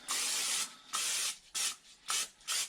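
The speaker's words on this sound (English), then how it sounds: "we'll take a little spray on oil, and I'm gonna spray this down a little bit so they don't stick" Short hissing bursts of cooking oil spray coat an air fryer tray, five close, crisp sprays with brief pauses between them.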